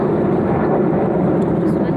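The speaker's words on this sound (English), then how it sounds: "as soon as the airplane goes by" A fixed-wing airplane passing overhead produces a steady, loud broadband roar that fills the whole stretch without letting up, with no pause or fade.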